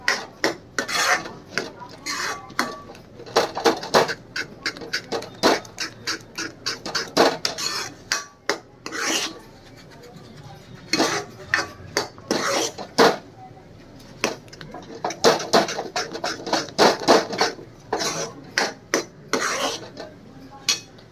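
Pitla batter being whisked briskly in a vessel, producing rapid rhythmic scraping strokes in bursts with short pauses, close and fairly loud.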